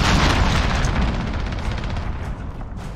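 Cruise missile blasts roar in the Call of Duty Modern Warfare beta, a dense, loud wall of booming explosions and crackling debris that rumbles continuously for three seconds.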